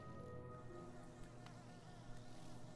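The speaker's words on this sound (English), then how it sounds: "Not the bees." Buzzing bees in the video game Hollow Knight, a faint continuous insect drone with a steady hum, quiet and unbroken for a few seconds.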